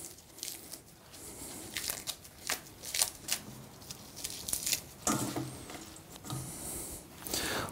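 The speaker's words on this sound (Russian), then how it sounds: "Для начала мелко порвем лист салата в миску." Lettuce leaves torn by hand into a bowl while making a salad, giving soft crunchy rips and rustles in irregular bursts, close and fairly quiet, with no talking.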